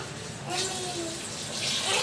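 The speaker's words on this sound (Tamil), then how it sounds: "வந்து தண்ணி ஊற்றிடலாம்." Water from a one-cup measure poured into a pot of rice with coconut milk for pulao, a steady broadband splash running the full two seconds, rising near the end, with faint room noise.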